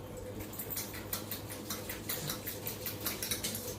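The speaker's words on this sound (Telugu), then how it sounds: "ఇంకా గిన్నెలు తోమటం స్టార్ట్ చేశాను" Dishes and pots being scrubbed at a kitchen sink during morning chores, with light, irregular metallic clinks and clatters repeating close by over low background hum, and no one talking.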